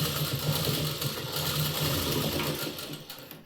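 A sewing machine runs steadily while stitching a slanted seam on a katori blouse, a continuous close mechanical whir with rapid needle ticking that slows and stops near the end.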